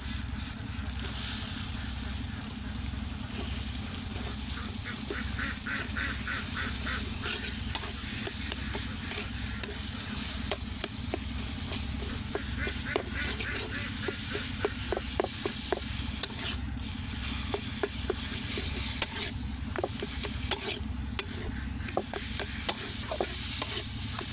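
Minced chicken frying in a pan of fried spices, a steady sizzle with repeated scraping stirs throughout, close and moderately loud, with no talking.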